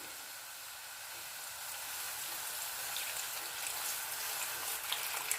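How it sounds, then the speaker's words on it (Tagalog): A steady, wide hiss and sizzle rises as a little water is poured into pork cooking in a pan for adobong takway with pork. "maglalagay lang ako ng konting tubig para lang palambutin ko konti itong ating pork"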